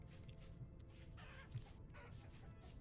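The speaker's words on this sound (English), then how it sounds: "I hear chicken." Chickens cluck faintly in the video game Vintage Story, a few soft, distant clucks scattered over a low ambient wash.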